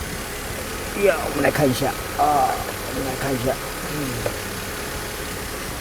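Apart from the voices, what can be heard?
Mercedes R129 300SL M104 engine idling quietly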